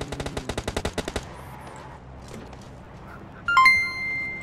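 Rapid automatic gunfire from a PUBG Mobile match rattles out in a quick burst of about a dozen shots, followed by quieter game ambience and a bright chiming tone near the end.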